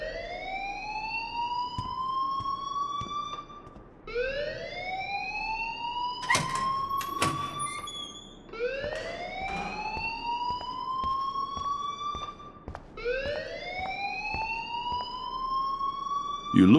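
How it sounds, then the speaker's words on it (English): School fire alarm from the game Life Is Strange: a loud electronic siren sweeps upward in four repeating rising wails, with a brief burst of shrill higher tones and clatter in the middle. "please turn off that alarm since that's your job"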